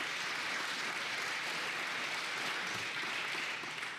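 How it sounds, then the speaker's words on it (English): Sustained audience applause at a political resistance gathering, a dense, steady wash of many hands clapping at close range, continuing evenly throughout without any voices. "this is the most applause they're ever going to hear from me"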